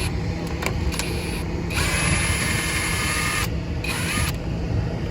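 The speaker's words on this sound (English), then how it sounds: "maybe I'll use the gun to run it down like this" An impact gun drives a brake bolt back in on a Ford Transit 350 HD van. The tool whirs and chatters in several bursts of different lengths over a constant loud background hum, with no talking.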